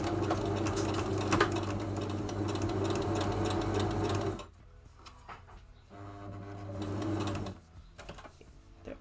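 A sewing machine stitches a hat in a fast, loud mechanical whir that runs steadily, drops off briefly, then starts again in a shorter burst up close.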